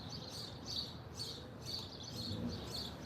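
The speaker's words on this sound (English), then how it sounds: "The birds are so nice" Songbirds chirp and tweet outdoors in repeated bright bursts, fairly distant and moderately quiet, over a steady low background hum with no talking.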